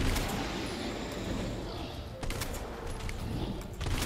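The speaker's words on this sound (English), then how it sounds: "Shoot him right in the chest." Several sharp shots ring out in quick succession as a monster is fired on in Resident Evil 2, cracking over a rumbling, noisy game backdrop with a voice talking alongside.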